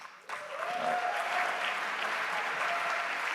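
An academic conference audience at a music information retrieval society session applauds steadily for an announced president-elect, a dense even wash of clapping that starts abruptly and holds at full level throughout.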